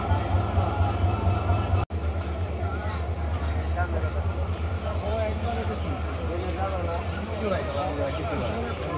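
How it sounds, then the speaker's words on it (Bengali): Train running on the line from Dewanganj station during the July 2024 floods, a loud steady rumble with rhythmic low wheel clatter heard from on board, continuous throughout with voices underneath. "যেই ট্রেনে এসেছিলাম সেই ট্রেনেই ফিরে যাচ্ছি"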